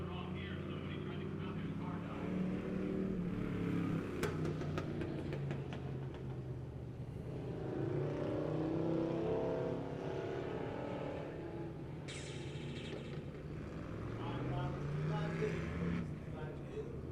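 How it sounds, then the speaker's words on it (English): Pure stock race car doing a tire-spinning burnout on the Lebanon Midway Speedway oval, its engine roaring steadily throughout under a public-address announcer's talk. "Oh, look, he's spinning the tires."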